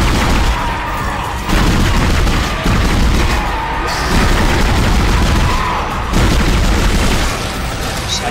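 Gunfire and explosive booms from the sci-fi horror game Dead Space, loud and dense, with repeated bursts and blasts running continuously throughout.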